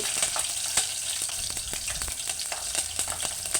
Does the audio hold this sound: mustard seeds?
yes